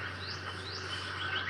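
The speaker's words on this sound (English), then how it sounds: "I can hear the birds." Birds chirp outdoors in rising, tweeting calls over a steady low hum and background noise, moderately faint and continuous.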